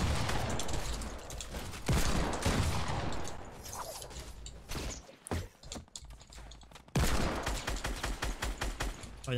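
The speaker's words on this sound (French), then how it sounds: "y'a un mec qui s'amuse là, il se défoule au minigun" Minigun firing in Fortnite, long rapid bursts of gunfire heard from a distance, pausing briefly midway before a final stretch of fast, even shots.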